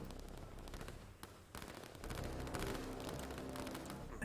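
Gunfire rattles through a Line War real-time strategy tournament battle, with scattered sharp shots and bursts over a low rumble, all fairly faint and distant.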